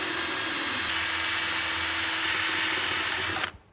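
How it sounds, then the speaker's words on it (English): A power drill bores out the rivet on a chainsaw bar tip, a continuous loud whine that runs steadily and then cuts off abruptly near the end. "So you see that rivet caught in the drill and it started spinning?"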